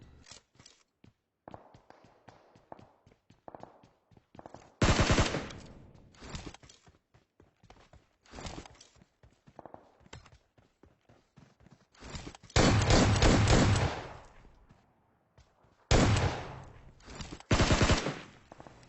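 Gunfire in the video game PUBG Mobile: scattered distant shots and footsteps build into several loud sustained automatic bursts, separated by short pauses.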